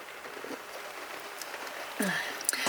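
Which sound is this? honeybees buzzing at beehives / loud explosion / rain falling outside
rain falling outside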